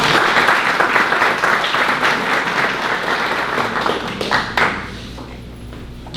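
An audience at a school's military breakfast applauds a pianist being welcomed, a dense, lively burst of clapping from a crowd that holds steady and then thins out and fades over the last couple of seconds.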